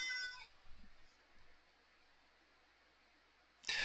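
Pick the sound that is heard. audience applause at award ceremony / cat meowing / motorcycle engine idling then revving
cat meowing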